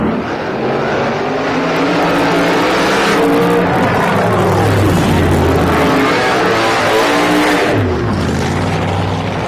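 Funny car drag racers thunder at a 1986 Texas Blue Max shootout, their engines a loud, continuous roar with rising and falling pitch as they accelerate down the strip.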